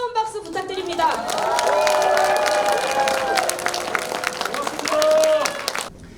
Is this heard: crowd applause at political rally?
yes